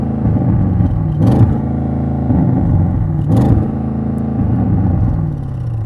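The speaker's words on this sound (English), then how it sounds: "you're going to rev it at traffic lights, only when you try to do that, it's not as good as you expect" A 2020 Audi RS7 engine idles with a deep rumble and is revved twice at standstill, each rev a short rise that falls back quickly, capped by a soft limiter.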